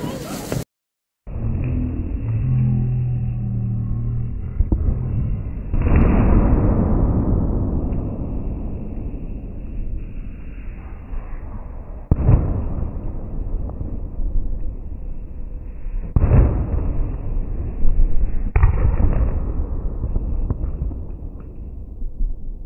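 Diwali firecrackers go off outdoors, with several loud, sharp bangs spaced seconds apart over a steady rumbling, windy background.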